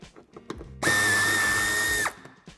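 A power tool spins out a Torx 25 screw from the right wheel arch of a Volkswagen T-Roc, a close, loud high whine lasting just over a second amid light clicks and handling noise.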